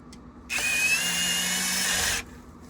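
A cordless power drill set to a light torque setting drives a screw on a Shark Zero M service, a single whining burst of about two seconds, close and loud, starting and stopping abruptly.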